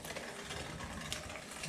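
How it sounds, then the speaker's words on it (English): An old vintage hand-crank sausage grinder turns with a steady, quiet ratcheting, gear-like clatter, grinding chilled deer meat in a continuous mechanical churn with no voices. "It's been a moon or two since I've used this old grinder."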